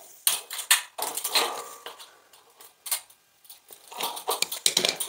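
Metal shears cutting a V notch into a metal stud during drywall partition work: a close series of sharp, crunching snips and metallic clicks in irregular bursts, with brief pauses between cuts.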